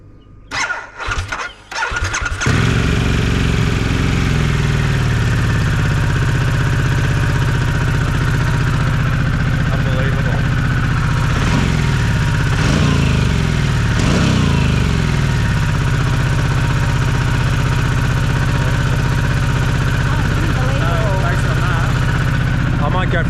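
An adventure motorcycle with running trouble in the outback is started: a few short cranking bursts, then the engine catches and settles into a loud, steady, close idle that runs unbroken for about twenty seconds.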